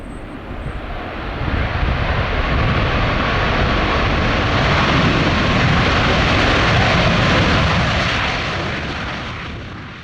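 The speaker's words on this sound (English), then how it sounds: "June also brought a visit from this Antonov 124 from Antonov Airlines" An Antonov 124 cargo aircraft of Antonov Airlines at Calgary International Airport, its engines giving a loud, sustained broadband roar that swells in and holds steady for the full ten seconds before easing slightly at the end.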